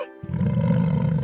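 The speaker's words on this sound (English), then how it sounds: "Lion, roar!" A lion gives one loud, deep, sustained roar that starts suddenly after a brief moment of silence and carries on steadily, close and alone, with no voices.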